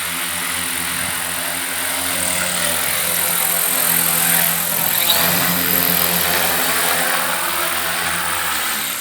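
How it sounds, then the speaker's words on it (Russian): An electric propeller-driven aerosled runs over snow, its propeller giving a steady, loud, droning whir with a constant pitch that swells slightly partway through. "Аэросани в ходу."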